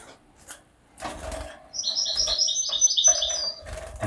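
A variegated goldfinch mule cock sings in a bursts-and-trills phrase of bright, rapid chirps lasting a couple of seconds, fairly close, with quiet handling noises and rustling before and around it.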